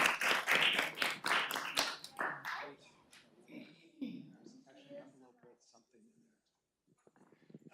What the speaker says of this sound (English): please give Paige a big round of applause